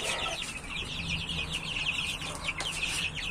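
Chickens cluck and chatter continuously on a farm, with a hen among newly hatched chicks; dense overlapping clucks, fairly close and steady, with no speech.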